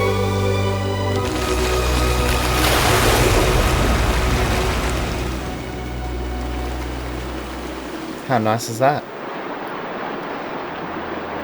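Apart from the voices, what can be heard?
water flowing in Disney Dreamlight Valley video game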